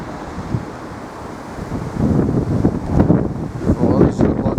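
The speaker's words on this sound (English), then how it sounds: "The wind's blowing out." Wind buffeting a microphone outdoors near Leeds town hall, a loud rumbling gusty roar that builds and surges over a few seconds.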